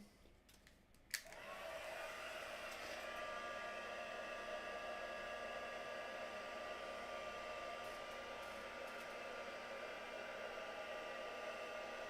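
A hair dryer switches on after a short clatter and runs steadily and loudly for the rest of the time, a constant whir drying a craft project up close.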